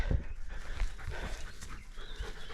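A dog pants in quick, breathy rhythmic puffs close by, a little rough and uneven, with no voices over it.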